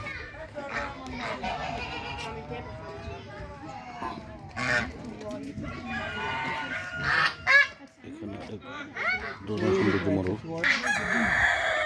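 A rooster crows amid a noisy yard of honking geese in a large park in Vicenza, Italy, while people chatter in the background.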